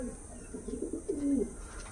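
Punjabi Malbai pigeons cooing close by, a few low, soft rolling coos rising toward the end amid gentle background noise, with no talking.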